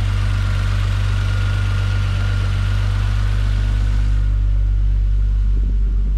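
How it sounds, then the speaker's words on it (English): A Toyota Supra Mk3 with the 7M engine idles after a cold start, a smooth, steady low rumble with a continuous drone and no ticking, close and even, with no talking. "engine is pretty smooth, really quiet, no ticking or anything like that."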